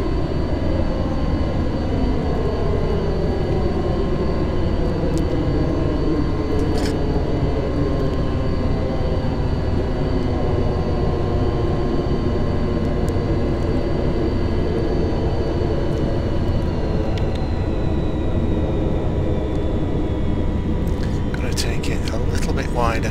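Boeing 707 jet engines roar steadily in a flight simulator during a night approach from Faro to Madeira, a loud continuous drone with slowly shifting harmonic whine, briefly interrupted by a few clicks near the end.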